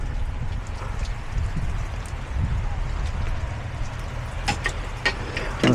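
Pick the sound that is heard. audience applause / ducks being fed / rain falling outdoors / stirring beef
rain falling outdoors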